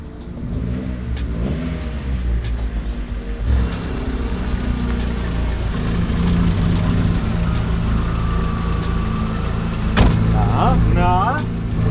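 Engine-swapped first-generation VW Golf arriving, its engine note rising and settling steadily, with other vehicle sounds around and people talking over it throughout.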